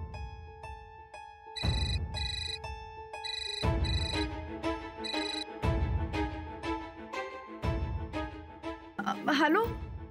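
A mobile phone rings with a bright electronic melody in repeated bursts separated by short gaps, loud and close, ending abruptly with a brief warble.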